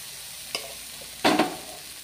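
Soda-leavened rava uttapam batter goes onto a buttered hot pan with a short, soft pour and a quick burst of sizzle that fades fast, heard close up with no one talking.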